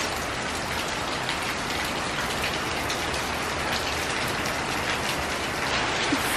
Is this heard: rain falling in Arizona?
yes